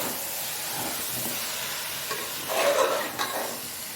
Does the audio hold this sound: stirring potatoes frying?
yes